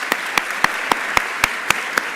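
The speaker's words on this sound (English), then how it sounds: "you all deserve a round of applause for being here today and for graduating with us today" Clapping at a December masters graduation ceremony comes as a steady, evenly spaced series of about eight sharp claps, moderately close and with no talk over it.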